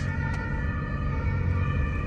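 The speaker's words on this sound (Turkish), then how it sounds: "Ay itfaiye değilmiş o. Ambulansmış." An ambulance siren sounds from outside a moving car, steady and fairly loud over low road rumble for the whole stretch, with no voices.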